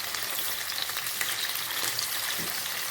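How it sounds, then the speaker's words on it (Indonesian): Fish sizzles and crackles steadily in hot oil in a pan, a dense, close frying hiss that carries on without a break and with no talk over it. "Kita goreng satu sisinya lagi."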